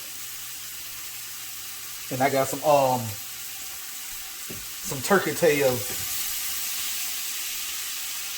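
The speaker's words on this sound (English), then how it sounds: "That sizzling you hear in the background" Onions and garlic sizzle and crackle steadily in a hot pan, a constant hiss running underneath two short bursts of someone talking.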